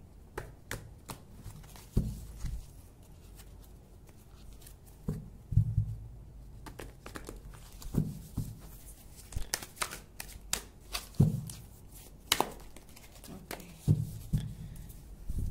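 A large deck of tarot cards is shuffled by hand, giving bursts of soft flicking and riffling with light taps spread unevenly over the stretch, close and fairly quiet.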